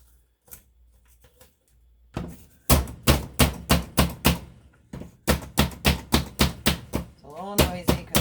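A Cuisinart mini food chopper chops onions on a glass countertop, thumping away in quick, regular strikes, several runs of close, hard chops separated by brief pauses after a few soft taps.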